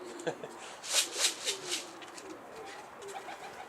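A Mardin tumbler pigeon coos nearby in a quick series of four or five soft, rhythmic pulses, followed by fainter murmuring coos over quiet background noise.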